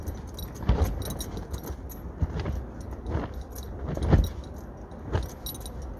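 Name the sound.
rooftop tent zips jingling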